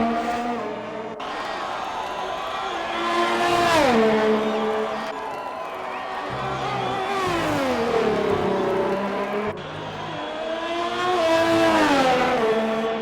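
Haas Formula 1 car in a racing video game at the Austrian circuit, engine screaming through rising gear pulls and dropping on upshifts in three repeated surges, loud and close, with a faint crowd behind.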